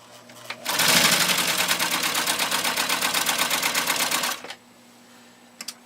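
A rare Husqvarna Viking 10M sewing machine stitches through 12 layers of canvas binding tape, running in a loud, steady, rapid mechanical chatter for about four seconds before stopping abruptly, followed by quiet.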